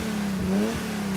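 An Infiniti G37 sports car revs its engine in a steady mid-pitched drone, rising briefly in the middle, close by with no voices over it.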